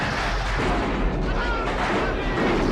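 A continuous roaring blast of a practical full-scale movie explosion, thick and rumbling throughout with no pauses.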